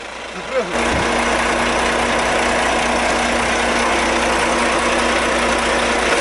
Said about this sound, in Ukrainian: Нарешті покатаюсь на фурі.